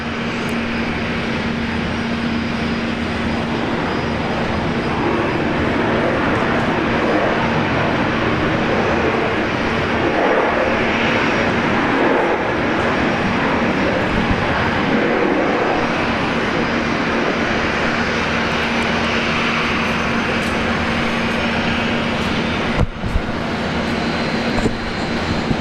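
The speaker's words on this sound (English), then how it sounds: "Nice little touchdown there from Virgin Australia." A Virgin Australia airliner touches down at Brisbane Airport, a loud, sustained broadband engine roar holding steady throughout with a steady drone underneath, heard from a distance outdoors.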